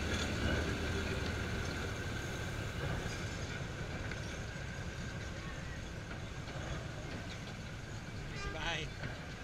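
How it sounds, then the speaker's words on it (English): A Yangon Circle Line train pulls away from the station platform, its low rumbling engine and rolling wheels steady and fairly close, with faint voices calling from the platform and a brief high squeal near the end. "we walked along the platform to watch our train leave"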